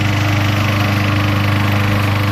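A lawn mower with a 22-inch deck, guided on a rope, runs close by with a loud, steady engine drone and buzzing vibration that never lets up.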